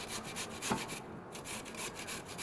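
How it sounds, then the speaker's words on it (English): Carrot rubbed against a hand grater during a cooking demonstration, a steady scraping rasp with repeated strokes, close and moderately quiet, with no talking. "you grate your carrot like this."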